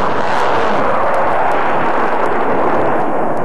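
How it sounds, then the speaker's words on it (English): A loud, continuous roar of two F-16 fighter jets' rapid cannon fire at a target blends with jet noise, dense and unbroken for several seconds. "the two F-16s also practice firing their cannons at a target"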